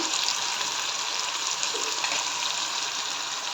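Potatoes fry in oil in a pan for kande pohe, giving a steady, close, even hiss of sizzling that carries on without a break.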